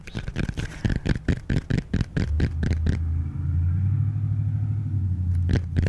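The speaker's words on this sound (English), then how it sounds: "Truck took off and he needs noise reduction." A truck pulls away: a low, steady engine rumble rises after a run of sharp tapping clicks and holds as it drives off, with a few more clicks near the end.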